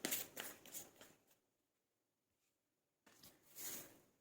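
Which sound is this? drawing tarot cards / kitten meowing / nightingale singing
drawing tarot cards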